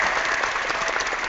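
Brief applause during an online hangout call, a short, steady patter of clapping heard clearly throughout with no voices over it.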